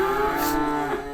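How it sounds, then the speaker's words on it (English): A single loud, close cow moo drawn out for about a second, with no other sounds. "these cows are so bloody noisy"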